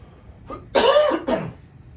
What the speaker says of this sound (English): Hate throwing a cough in on a live broadcast.